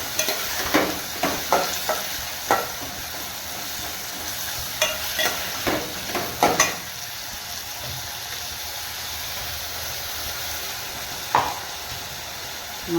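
Ground masala is stirred into carrots frying in a pan, a gentle continuous sizzle punctuated by clinking scrapes of a spoon against the pan.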